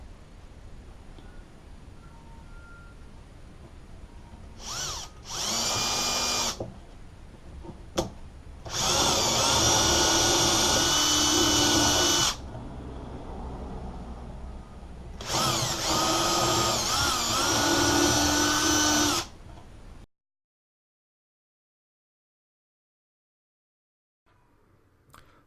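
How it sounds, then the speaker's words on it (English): A power drill fitted with a wood bit and depth ring bores into a cabinet drawer front in several loud bursts, two short and two long, separated by quiet pauses, ending in near silence. "I'm using a wood drill with a depth ring"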